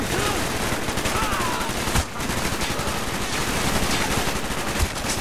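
Sustained, dense gunfire from enemy soldiers in the PC shooter Call of Duty: Black Ops, a constant loud barrage of shots coming from many directions with hardly a pause.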